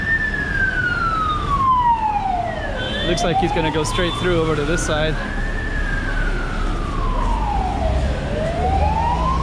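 A loud ambulance siren wails in long rising and falling sweeps close by on a street in Taipa, Macau, with traffic rumble underneath and someone talking over it.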